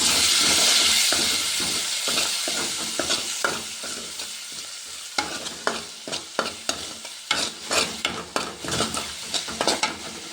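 Stuffed bitter gourd curry with added water stirred and scraped in a hot pan, a steady sizzle underneath with a run of quick rhythmic spoon strokes growing sharper toward the end.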